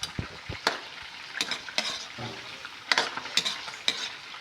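Soy sauce sautéing in a hot pan with onions, a Filipino tilapia steak dish: steady sizzle broken by several sharp bursts of frying and stirring scrapes, close and loud, with no talking.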